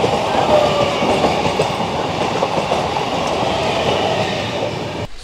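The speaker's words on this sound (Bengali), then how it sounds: "আমাদের ট্রেন তার নির্দিষ্ট সময়ে শিয়ালদা স্টেশন থেকে যাত্রা শুরু করলো।" Kanchankanya Express pulls out of Sealdah station with a loud, steady rumble and clatter of wheels on track, heard from inside the moving train.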